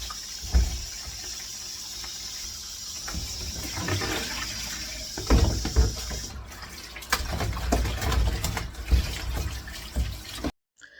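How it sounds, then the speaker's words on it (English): Clean tap water runs steadily while fresh produce is scrubbed by hand with a sponge for batch juicing, a continuous splashing stream broken by sharper handling splashes, close and fairly quiet, ending abruptly. "I personally prefer just clean running water with my sponge and my hand power, just as you're seeing on the screen"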